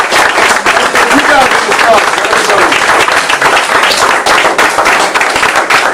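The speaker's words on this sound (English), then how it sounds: "Let's give him a round of applause." A workshop audience claps loudly and steadily for a martial arts master, close and continuous, while a voice speaks over the applause.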